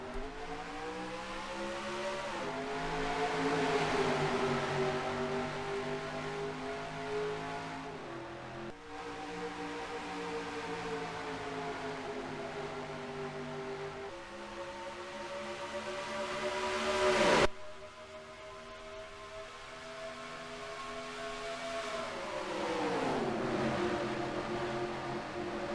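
Stock race cars in a racing video game at Kentucky Speedway in Sparta, during the Holley Carbs 150: a continuous engine drone that rises and falls through revs and gear shifts, with layered engines at moderate volume.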